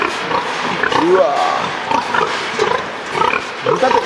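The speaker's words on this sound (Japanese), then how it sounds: "豚って噛まない" Pigs at a pig farm grunt and snuffle nearby in a busy pen, a steady stream of low grunts and squeals mixed with people talking close by.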